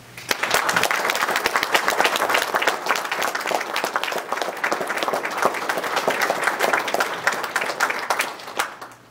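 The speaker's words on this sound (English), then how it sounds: "Let's give them a round of applause." An audience at a Navy retirement ceremony applauds, a dense, steady wash of many hands clapping that swells quickly and holds for several seconds before tapering off.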